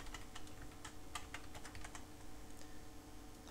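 Typing on a computer keyboard during photo editing, a quick run of soft, close key clicks over low background hum.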